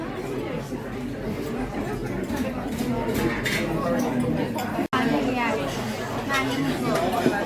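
Dishes and cutlery clink now and then over a steady hum of restaurant chatter in Saint-Germain, Paris, at night, with people talking nearby throughout.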